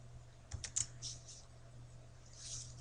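Soft keystrokes on a computer keyboard while entering a formula in an Excel spreadsheet, a short cluster of quick clicks followed by a few scattered taps, faint and close over a low electrical hum.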